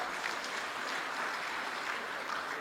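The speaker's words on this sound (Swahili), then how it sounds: "Makofi tena kwa LATRA." Sustained applause from an audience at a Tanzanian government ceremony where public institutions present dividends to the president, a steady even clatter of many hands that stays loud and continuous throughout with no talk.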